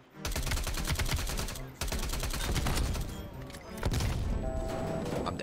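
Dense bursts of automatic gunfire and explosions roar from a Call of Duty: Black Ops Cold War beta match on PS4. Loud, rapid volleys come in waves with brief gaps between them.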